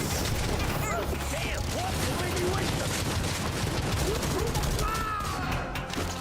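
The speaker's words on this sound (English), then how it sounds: "they never stop shooting" Dense, continuous bursts of enemy gunfire from the shooter game Necromunda: Hired Gun, steady and loud across the whole stretch, with faint voice-like chatter and sweeping game effects layered underneath.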